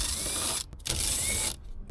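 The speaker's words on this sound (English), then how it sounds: "we'll remove all these bolts right here to have access to the actual" A hand ratchet clicks in quick runs while loosening 7mm console bolts inside a 2023 Ford F-250 cab. The runs are broken by two brief pauses and there is no talking.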